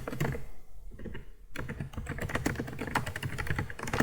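Steady typing on a computer keyboard while entering a Python program, rapid close key clicks running continuously and densely with no voices.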